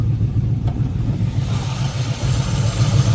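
A car with a swapped 5.3 LS V8 idles through its exhaust with a steady, lumpy low rumble, close and continuous, with nothing else over it.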